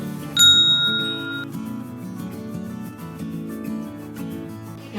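A bright bell ding rings once as a notification chime, followed by light background music with no talking.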